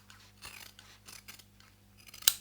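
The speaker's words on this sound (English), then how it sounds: "You can trim the excess so they are exactly the same length." Scissors trimming excess fabric on a sewn jewellery pouch, a few soft snipping and rustling cuts ending in one sharper snip, quiet and close.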